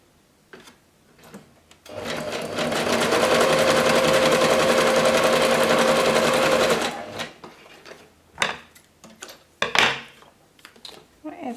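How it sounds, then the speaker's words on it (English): A sewing machine runs a zigzag stitch through fabric scraps for about five seconds, a loud close steady whirring hum, framed by quieter handling clicks and rustles of cloth before and after. "Put that back on zigzag,"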